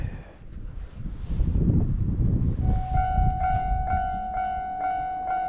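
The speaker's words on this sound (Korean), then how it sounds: "역 앞에 있는 건널 목경보기가 작동하며 열차의 접근을 알립니다" A railway level crossing alarm in front of a station signals an approaching train: a loud tone starts partway through and rings in a steady repeating pattern over outdoor wind and rumble.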